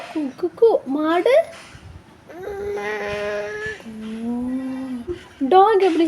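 A young child imitates a cow with drawn-out mooing sounds, mixed with short childish vocal bits, close and clear.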